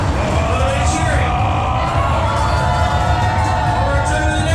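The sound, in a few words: audience cheering at a sumo show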